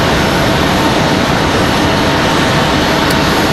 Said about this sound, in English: Got another Breeze Airways coming down the hill here.